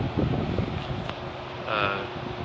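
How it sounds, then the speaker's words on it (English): An electric fan blows air over a window air-conditioning unit being restored. It makes a steady, close, rumbling whoosh that swells slightly near the end. "I have the fan on right now, just so when it's blowing through there, it'll help dry everything."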